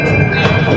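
Metro train ride heard from inside the carriage, a loud, steady rumble with a sustained tonal whine and no talk.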